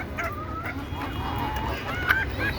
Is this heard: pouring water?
no